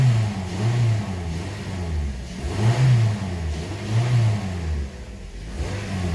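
A 2007 Toyota engine revs in repeated surges, rising and falling in pitch close to the listener, after a crank-no-start fault is fixed, with no talk over it.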